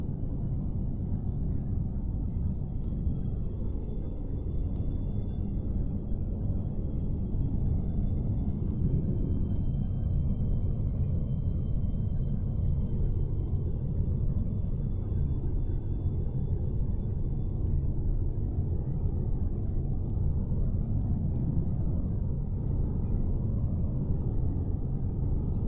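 Spaceship engine in the Empyrion space game, a steady, loud low rumble that holds evenly throughout while the small vessel accelerates, with faint higher hum above it and no talk.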